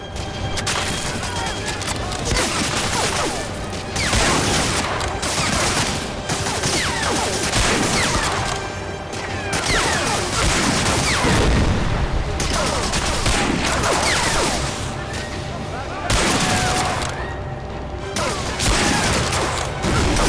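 Dense, sustained gunfire from the Medal of Honor Warchest video game, with rapid automatic bursts and scattered impacts and crashes continuing steadily and loudly throughout.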